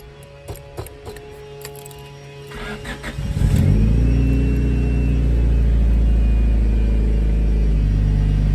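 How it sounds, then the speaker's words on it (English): A Honda Civic engine cranks after some faint clicks and catches, then settles into a loud, steady idle rumble close by. "let's end the video with one more start of the car"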